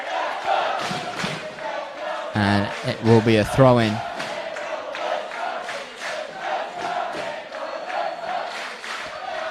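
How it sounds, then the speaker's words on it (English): A football crowd at a men's Premier League grand final roars steadily for University Azzurri against Mindil Aces, a broad continuous swell that carries on beneath a commentator's voice. "Their crowd getting firmly into this one."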